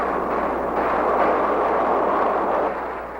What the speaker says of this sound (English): Tactical fighters continue their precise attacks, complementing the heavy bombardment of the B-52s